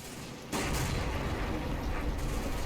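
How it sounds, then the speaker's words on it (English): A Churchill tank opens fire in the Combat Mission video game during a WWII Operation Epsom battle. A sudden loud blast gives way to a sustained, dense rumble of gunfire. "On my left flank, one of the Churchills spots something and goes loud."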